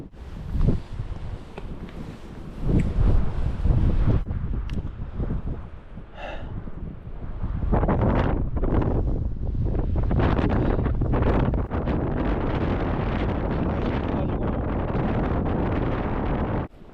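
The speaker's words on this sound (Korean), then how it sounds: "바람이 너무 센데" Strong wind on a rocky mountain summit in Seoul batters the microphone in heavy gusts, rising and falling in the first seconds before settling into a long, loud, sustained roar.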